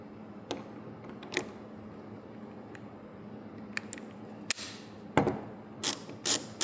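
Torque wrench tightening the wheel nuts on a Unimog truck to 400 Nm, a quiet run of ratcheting clicks and metallic ticks close by, ending in several sharper clacks as each nut reaches torque.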